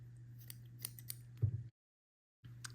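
Scissors snip through crochet yarn ends, a few faint, quick clicks close by over a low steady hum, followed by a brief silence.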